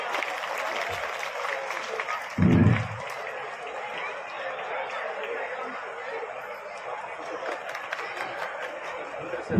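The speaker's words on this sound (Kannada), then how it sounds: "ಜೋರಾನೆ ಚಪ್ಪಾಳೆ ತಿಳಿಸಬೇಕು" An audience at a Vijayapura ceremony claps in a short burst amid steady crowd chatter and light laughter, the applause fairly distant and soon fading back into murmuring voices.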